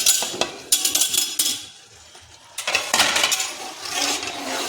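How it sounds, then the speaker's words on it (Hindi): Potato pieces tipped into a pot of chicken biryani masala with tomatoes and yogurt make bright clattering clinks in quick bursts, a short pause, then a louder jumble of metallic knocks and scraping. "अब इसमें डाल देंगे आलू"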